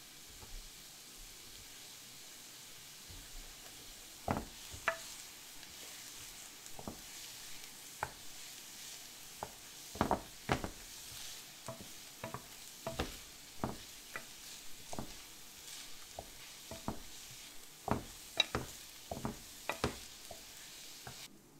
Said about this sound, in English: Just give the onions a stir every now and then so they don't burn.